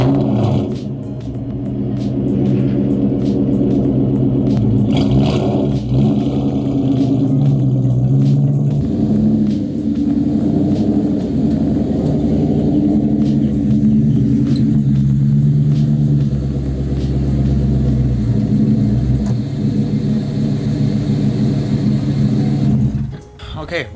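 Low, throbbing V8 rumble from a 1999-2004 New Edge Mustang GT idling and creeping along as it is moved, steady and loud throughout with slight swells in revs, up close.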